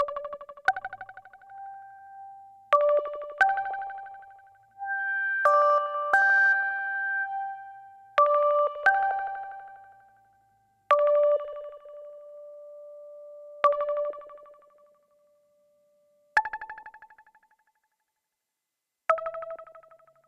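Plucky tones from a Eurorack modular synthesizer ring out alone as short, clean notes with quick decays, spaced in a loose, uneven rhythm with small clusters of two or three pitches.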